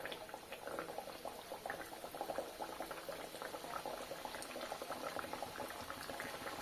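Potato patties sizzle in hot oil in a pan on a gas stove over low heat, giving a steady, dense crackle and spatter that runs unbroken throughout.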